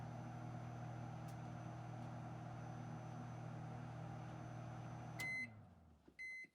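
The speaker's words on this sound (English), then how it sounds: "Microwave marzipan for 10-second intervals in a bowl." A microwave oven softening marzipan in a bowl hums steadily for several seconds, then stops with a short series of beeps, followed by another brief beep.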